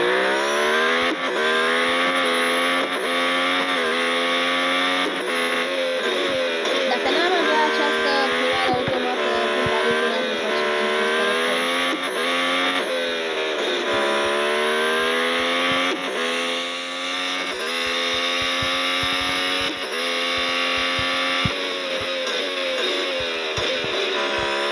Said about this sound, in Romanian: nici nu știu să-i zic mașină, adică este o Formula 1